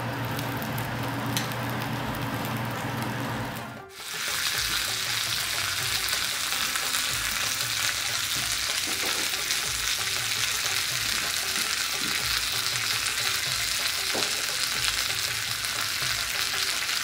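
Chicken malai tikka sizzles loudly on a hot grill sizzler plate, a dense, continuous crackling hiss that flares up after a brief dip near the start and then stays steady and close.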